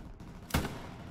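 A single sharp rifle crack goes off in Hell Let Loose, a World War II shooter, loud and sudden against a quiet rumbling background, followed by a short fading tail.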